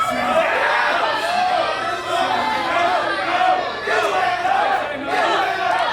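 A wrestling crowd, hostile to Sharp in his match against McKelly, cheers and shouts in rising and falling waves of chanting and yelling, while a commentator talks over the din.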